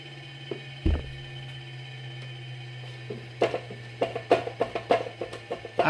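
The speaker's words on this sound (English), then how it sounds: "I hand turn my lathe because it works better" A wood lathe turned slowly by hand while coating a pen blank gives off a low steady hum, an early thump, then a run of quick ratcheting clicks that grows denser toward the end; close and moderately quiet.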